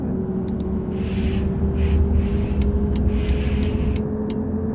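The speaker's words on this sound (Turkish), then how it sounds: "Bak arabalar önümden geçti şu an." Cars pass by in a bus simulator video game, with a steady engine hum underneath and several soft whooshing passes close by.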